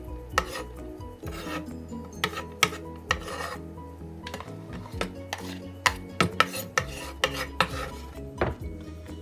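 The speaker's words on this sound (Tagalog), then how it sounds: "So you have to chop 4 medium garlic cubes." Four medium garlic cloves being chopped with a knife on a board for a Korean napa salad, a steady run of close, sharp taps and scraping strokes, some louder than others.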